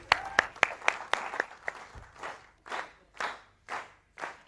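A studio audience gives warm applause for a singer on a TV talk show. It starts as a few sharp separate claps, then settles into softer rhythmic clapping that swells and fades in regular bursts.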